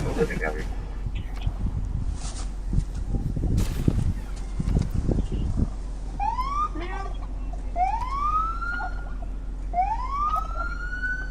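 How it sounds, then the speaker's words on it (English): A police car siren sounds in a rising, repeating wail, three sweeps heard clearly after a stretch of busy road noise and scattered voices, with a steady low engine rumble beneath throughout. "I tried to use my siren to scare him out of the road so he wouldn't get struck"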